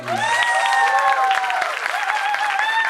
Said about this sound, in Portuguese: Palmas para os pequenos cantores.